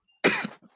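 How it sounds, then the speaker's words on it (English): A single short, harsh cough, close and loud, bursting out abruptly and trailing off in under half a second with a faint catch of breath after. "it figures that I might start freaking coughing when it's time to freaking talk about stuff on stream"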